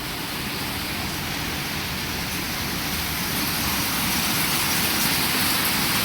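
Steady rain pours down outdoors in a continuous, even hiss, with no voices over it, and the wash of falling water grows slightly louder toward the end.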